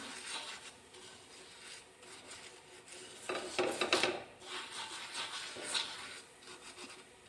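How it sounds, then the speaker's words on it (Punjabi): Scrubbing an iron tawa griddle with lemon and baking soda, a rough rasping rub that comes in strokes of varying intensity, with a louder burst of scraping in the middle, close up and with no talking. "ਇਹ ਸਾਰੇ ਤਵੇ ਦੇ ਉੱਤੇ ਇਸੇ ਤਰ੍ਹਾਂ ਆਪਾਂ ਚੰਗੀ ਤਰ੍ਹਾਂ ਨਾਲ ਨਿੰਬੂ ਦੇ ਨਾਲ ਲਗਾ ਦਾਂਗੇ"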